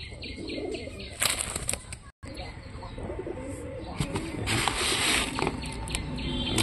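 Blue pigeons flocking in for morning feed, bursts of close wing flapping with soft cooing and chirps, a voice talking faintly underneath and one brief dropout.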